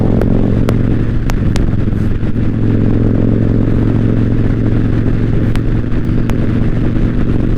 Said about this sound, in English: if you listen to the bike isn't struggling at all